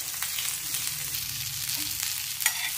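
Cumin seeds frying in hot oil, a steady close crackling sizzle with faint tiny pops and a small knock near the end.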